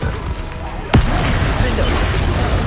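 A single Confringo fire-spell blast in the video game Hogwarts Legacy on PS5, one sharp loud burst about a second in, followed by a rumbling tail over ongoing game noise.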